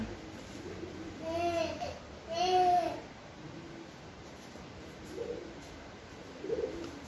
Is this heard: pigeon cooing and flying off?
yes